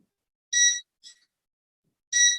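An induction burner sounds short, high electronic beeps: two clear tones about a second and a half apart, with a fainter blip between them, in an otherwise silent room.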